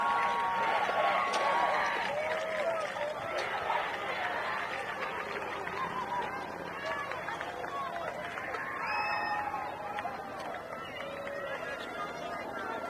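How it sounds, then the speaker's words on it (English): A fired-up crowd at a Bonneville high school football game roars and chatters on a continuous, loud wash of cheering, with an announcer talking over it. "The Bonneville crowd fired up."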